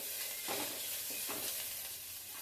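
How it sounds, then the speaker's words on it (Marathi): Onion fries in hot oil, giving a steady close sizzle with a few soft stirring scrapes over it, heard alone without any voices. "तेल टाकल्यावर आपण कांदा टाकायचा आहे आणि कांदा चांगला ब्राऊन होईपर्यंत आपल्याला भाजायचा आहे"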